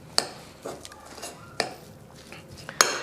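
A spoon works chickpea patty mixture in a bowl, giving four or five distinct clinks and scrapes against the bowl at irregular intervals, close and moderately loud.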